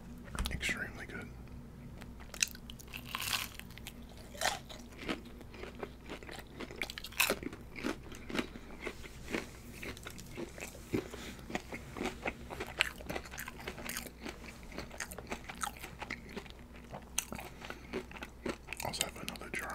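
Jumbo fried shrimp and fried calamari are eaten close to the microphone, with frequent crisp crunching bites and chewing clicks scattered irregularly throughout, quiet whispering in between.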